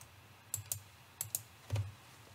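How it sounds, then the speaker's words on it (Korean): Computer keyboard keys tapped while writing Python code, a few quiet clustered clicks in short bursts, close and alone with no talking. "우리 코딩이라는 것은 자꾸 타이핑을 해 봄으로써"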